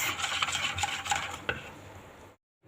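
A spoon stirs a sugar-water mixture in a pot for muhallabia, a continuous scraping and swishing against the metal with a sharper clink near the middle, then it stops abruptly into silence.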